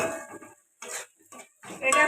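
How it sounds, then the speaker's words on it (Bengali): Ginger paste being sautéed with spices in a pan for a vegetarian okra dish, heard as a few short bursts of scraping and clinking utensil strokes against the pan, separated by quiet gaps. "এই আদা বাটাটাকেও একটু কষিয়ে নেব মশলার সাথে"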